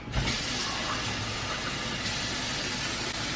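Water poured from a container into a cooking pot as the first step of a curry butter shrimp dish, a steady broadband splashing rush that holds at an even level for several seconds.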